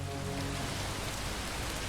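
Steady rain falling in the video game Far From Noise, a dense continuous hiss of drops on a surface, loud and even throughout with no voices.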